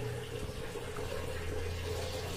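An LG top-loading washing machine fills its tub with water during a tub-clean cycle: a steady, continuous rush of water with a low hum underneath, close and even throughout, with no voices.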